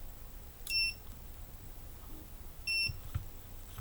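Two short, high electronic beeps from a drone lost-model buzzer, about two seconds apart, fairly faint against a quiet background hiss.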